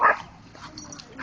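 Dogs at play in Washington, DC let out a short sharp yip at the start, then softer whimpering and small vocal sounds, close by and with no talk.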